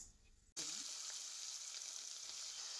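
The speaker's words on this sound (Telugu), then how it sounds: "ఇప్పుడు ఇవన్నీ ఫ్రై అయ్యాక కట్ చేసి పెట్టుకున్న ఆనియన్స్ వేసుకుందాం." Chopped onions drop into hot oil already frying mustard seeds and fenugreek for an Andhra fish curry, bursting into a loud, steady sizzle after a brief quieter moment.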